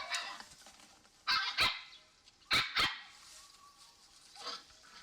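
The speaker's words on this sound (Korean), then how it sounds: "강아지 소리도 들렸고" A dog barks a few times in a 3D spatial sound exhibit, two pairs of sharp barks with a fainter one near the end, slightly distant over quiet background.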